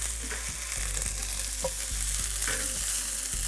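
Veggie fried rice with broccoli and ginger is stirred in a hot pan, a continuous loud sizzle broken by regular scraping knocks of the utensil against the pan, close up with no voices.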